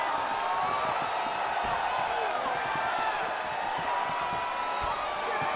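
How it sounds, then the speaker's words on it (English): A UFC arena crowd cheering between rounds, a steady wash of distant cheering and roaring voices with scattered claps throughout, and speech over it. "So the crowd voicing its appreciation after that round."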